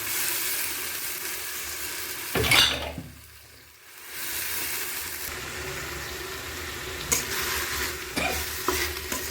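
Mint and coriander leaves are stirred into sizzling ginger garlic paste in a pan, with a spoon scraping and a steady frying hiss that briefly drops away mid-stir and then resumes.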